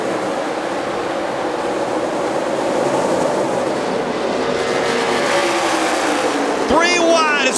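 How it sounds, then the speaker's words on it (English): NASCAR stock cars roar off at the green-flag start of the 2015 Quaker State 400 at Kentucky Speedway, a steady, dense engine wash running throughout beneath continuous commentary. "Green flag is in the air. We're racing at Kentucky."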